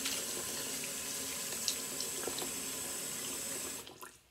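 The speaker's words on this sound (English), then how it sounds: "Fill up your bowl with water" A steady stream of tap water splashes into a bowl, a constant hiss that fades out near the end.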